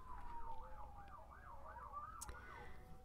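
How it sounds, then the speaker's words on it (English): Emergency vehicle sirens passing through a town, a continuous wavering wail cycling up and down, heard faintly from a distance against low background noise. "there are sirens flying through my town"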